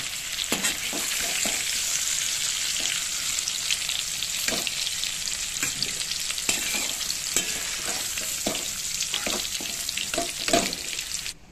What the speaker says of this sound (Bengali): আলু আর কুমড়োটা ভালো করে ভাজা হয়ে গেছে